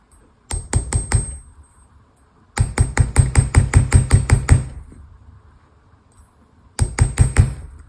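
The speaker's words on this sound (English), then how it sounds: "this is the moment we're going to strengthen these pieces with a nylon hammer." A nylon hammer taps metal jewelry pieces such as chain links and jump rings in quick rhythmic bursts, three groups of rapid ringing strikes separated by short pauses, close and crisp.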